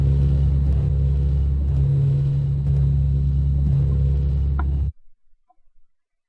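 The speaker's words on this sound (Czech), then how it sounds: "Třeba zkusíme německý převozní auto." A German transport car driven in a Minecraft mod, its engine a loud, steady droning rumble with a hum that holds for about five seconds, then cuts off abruptly into near silence.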